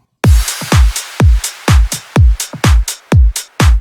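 House music percussion of hi-hats layered with two clap samples. Sharp, punchy hits land in a regular pulse about twice per second, each with a deep low thump under a bright snap, loud and close with no voices.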